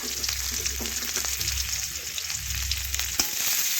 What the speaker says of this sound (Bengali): এখন পেঁয়াজ একটু লাল লাল করে ভেজে নিচ্ছি